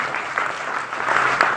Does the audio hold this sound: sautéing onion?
no